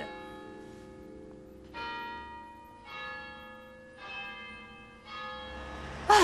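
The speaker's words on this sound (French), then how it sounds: "Sous les cloches de Big Ben." Big Ben's bells toll from the clock tower in London, five slow resonant strikes spaced about a second apart, each ringing out and decaying over a quiet background.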